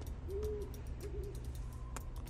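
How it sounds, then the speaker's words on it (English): Owls hooting in a video game, two soft, low hoots in quick succession over a quiet, humming ambient background. "You can hear some owls flying above me."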